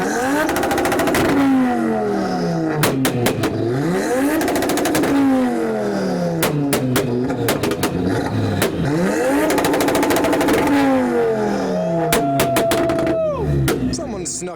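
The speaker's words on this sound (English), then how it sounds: "we're now getting a start-up from the RS to put on a show" A Ford Focus RS at a UK fast-Ford track gathering starts up and revs repeatedly, loud close engine rising and falling in several sweeping surges with clattering bursts between them.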